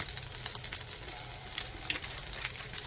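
Kimchi fried rice sizzles in olive oil in a frying pan, with a steady crackling fry close up and a few light stirring scrapes, and no voices.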